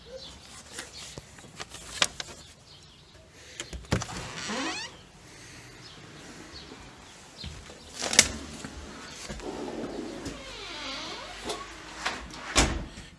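An interior door in an inner-city infill house creaks slowly through several drawn-out groans, with knocks, clicks and handling noises scattered between them, fairly close and with no speech.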